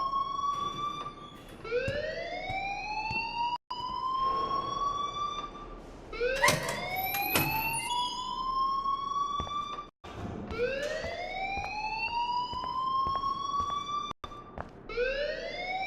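Alarm ringing in the video game Life Is Strange: a loud siren-like wail that repeatedly rises in pitch and holds, cycling several times with brief cutoffs, steady and close without voices.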